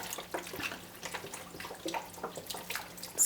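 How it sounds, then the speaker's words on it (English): Low sodium chicken broth pours into a soup pot with a soft, continuous splashing and gurgling, quiet and close, for a few seconds. "Put the broth right in there."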